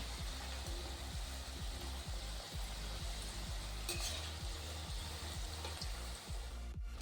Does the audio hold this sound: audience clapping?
no